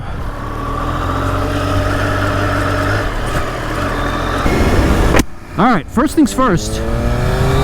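Triumph Daytona 765 Moto2 motorcycle engine running steadily, then revving hard in rising and falling bursts as it pulls away, loud and close, with someone talking briefly at the start.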